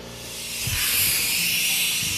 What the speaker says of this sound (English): That's the sound of a leak.